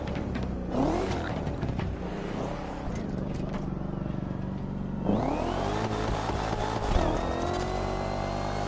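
A car engine in The Crew Motorfest revs hard and drops through downshifts, with loud rising and falling sweeps, a sharp burst near the start and another strong surge midway, close and dominant.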